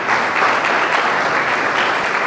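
A church congregation gives loud, dense applause in praise of God during a New Year service, with the clapping holding steady and thick from start to finish.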